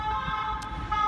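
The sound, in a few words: ambulance siren passing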